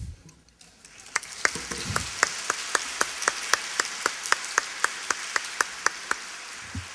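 An audience at a 2009 lecture on an outpatient pulmonology practice breaks into applause, a steady wash of many hands clapping that swells after a quiet start, with a few sharp, prominent claps punctuating it in a regular rhythm.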